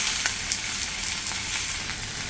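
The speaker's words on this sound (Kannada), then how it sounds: "ಇದಕ್ಕೆ ಕರಿಬೇವಿನ ಸೊಪ್ಪು ಮತ್ತು ಕೊತ್ತಂಬರಿ ಸೊಪ್ಪು ಇದು ಹಾಕಿ ಹುರ್ಕೋಬೇಕಾಗುತ್ತೆ." Tamarind, curry leaves and fresh coriander fry in a pan for a Hogenakkal-style fish curry, giving a steady close sizzle with faint stirring clicks and no talk.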